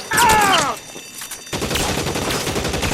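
Gunfire in the L.A. Noire crime video game: a rapid, loud volley of shots with ringing tones at first, then a brief lull and a sustained dense crackle of continued firing.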